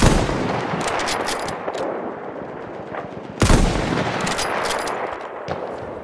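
Enemy machine gun fire in Battlefield 1 rattles in sustained loud bursts, with a heavy blast midway and continuous battlefield noise around it.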